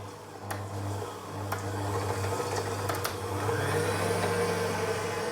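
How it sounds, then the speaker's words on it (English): A kitchen machine blends raspberry sauce for Austrian baked rice pudding, giving a steady, close motor whir with a low hum throughout and a few faint clicks, no talking. "So now this goes into the machine. And we let it run."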